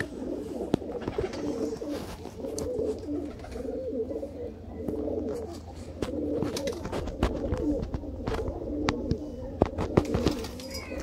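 Teddy pigeons at a sale coop in Sialkot coo in repeated rolling phrases, close and continuous, with scattered sharp clicks and flutters and faint voices in the background.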